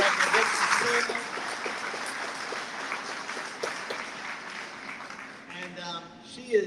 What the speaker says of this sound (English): we have Irina Tristan in the back, round of applause for her